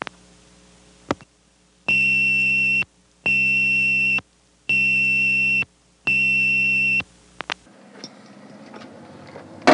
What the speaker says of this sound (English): This thing does ring for 1/2 second every second, alternating the two frequencies you have selected.